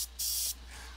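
A Badger airbrush sprays primer over a half-scale bust in short hissing bursts: a brief puff, then a longer strong blast, trailing into a softer steady hiss. It is close and dry.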